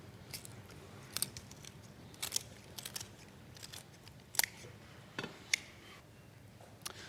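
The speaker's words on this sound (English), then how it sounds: "you can split it right down the middle, and it's nice and easy with the scissors because you can follow the line of bone" Kitchen scissors snip through the backbone of a raw chicken in a professional kitchen, giving a series of sharp, crisp cuts and crunches at an uneven pace, close and fairly quiet, with no talking.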